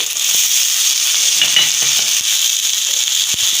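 Capsicum and green peas fry in hot refined oil with bay leaf and whole cumin, giving a constant bright sizzling hiss close by, with faint stirring clinks and no talking.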